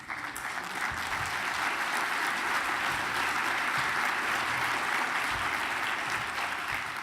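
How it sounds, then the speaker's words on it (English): Sustained audience applause fills a conference hall at the 2019 Knight Media Forum, dense steady clapping from a large crowd that continues unbroken for several seconds without voices. "I will note that that applause was not led by our CFO, Juan Martinez."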